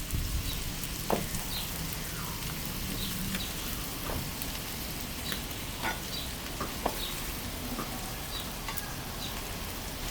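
Hoagie rolls toast on a flat-top griddle with a steady close sizzle and scattered crackles and pops throughout, with no voices.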